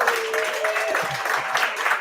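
An audience at a poetry show in a Northeast Minneapolis club gives a poet a round of applause, a short steady patter of clapping with a voice briefly audible over it.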